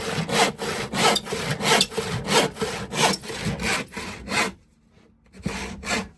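Hand saw cutting a notch in a wooden model railway baseboard, rapid rhythmic back-and-forth rasping strokes up close, pausing briefly near the end before a few more strokes.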